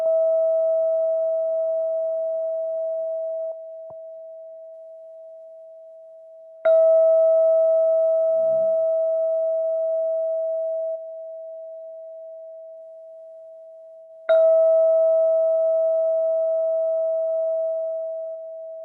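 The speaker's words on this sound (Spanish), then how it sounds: "Yo voy a tocar la campana" A mindfulness bell is struck three times at even intervals, each ring a clear, pure tone that hangs and slowly fades before the next strike, with near silence between.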